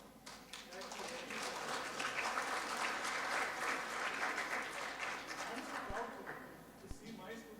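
Audience applause at an artificial intelligence and cybersecurity conference, a steady roomful of clapping that holds for several seconds at moderate level, with a couple of sharp knocks near the end.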